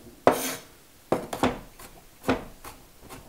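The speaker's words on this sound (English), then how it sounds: "So we're just chopping the bawang with a knife." A knife chops garlic on a cutting board with several sharp, uneven knocks and short scraping strokes, close and clear, with no talking.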